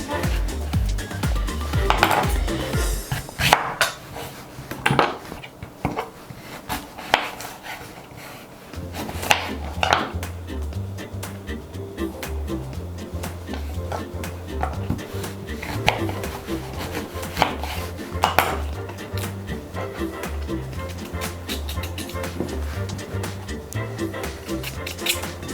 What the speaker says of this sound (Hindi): दरमियाने साइज़ के इसको काट दें।